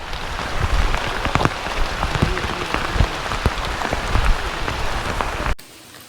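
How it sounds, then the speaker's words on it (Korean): Heavy rain pours steadily on a mountain trail of Hallasan in strong wind, a dense close hiss with scattered drop impacts that cuts off abruptly near the end. "비가 많이 오네."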